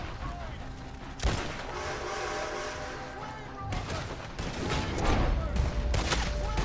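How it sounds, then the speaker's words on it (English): Gunshots ring out in Red Dead Redemption 2 Online, sharp blasts near 1.3 s and around 3.7 s, followed by a burst of rapid fire, all set against a busy game soundscape of rumbling train noise and sustained tonal hum. "Fire your gun up in the air, Carson,"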